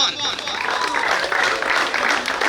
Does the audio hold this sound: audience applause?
yes